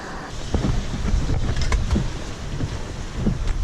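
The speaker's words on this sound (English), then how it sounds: "Golly, look at the wind blowing." Wind gusting across a lake bank, a rough, rumbling buffeting against the microphone with faint rustling, steady and close throughout.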